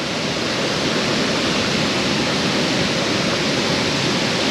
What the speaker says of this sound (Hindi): इसके पीछे से भी बहुत तेज़ी से पानी गिर रहा है